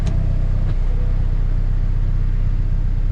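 A BMW E30 idles at close range after a repair meant to calm its idle, with a steady, low engine rumble and less rattle, holding evenly throughout, with no voices over it.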